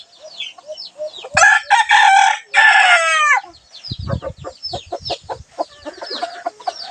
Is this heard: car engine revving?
no